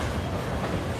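Loaded freight cars, some covered and carrying trash, roll through the DeButts Classification Yard as a dense, continuous rumble of wheels on rails, close and steady throughout.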